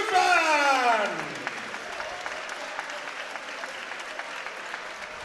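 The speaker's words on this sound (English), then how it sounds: "please keep your applause going as well for her competitor, Chrystall" Crowd applause at an MMA fight night after a second-round rear naked choke win, loud and dense at first, with a falling voice or tone over the opening second, then settling into steady, lighter clapping and cheering.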